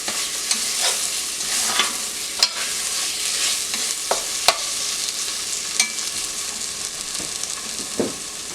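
Tomato ketchup sautéing in a pan while a fish muitha is cooked, giving a steady soft sizzle with repeated spoon scrapes and light taps against the pan, close and moderately loud, no voices.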